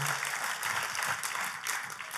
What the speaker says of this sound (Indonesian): Tepuk tangannya boleh yang paling meriah buat Tuhan kita.